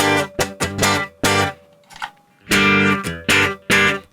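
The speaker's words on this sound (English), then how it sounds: "It sounds like a guitar played through an amp." Distorted electric guitar chords through a Tech21 SansAmp GT2 amp simulator pedal ring out in short, punchy strums, with a brief sustained note in the middle, gritty and loud.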